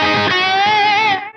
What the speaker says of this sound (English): Nice, warm kind of delay loveliness. Then the trapeze artist delay is for you.